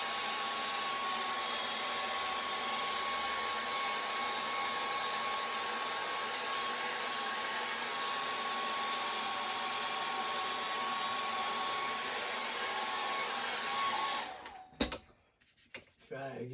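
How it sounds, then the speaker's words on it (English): A hair dryer blows steadily at close range for a long stretch, then cuts off abruptly, leaving a few soft clicks and handling noises. "So I use a hairdryer"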